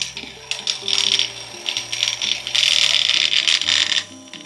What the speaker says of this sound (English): And as you expect from a slow RPM grinder like that, it will take some time to grind.